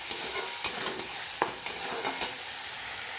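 Pointed gourd seed paste frying in a pan: a steady, close hiss of sizzling with a few soft scrapes as it is stirred, no voices.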